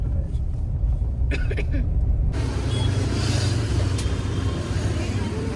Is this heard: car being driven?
yes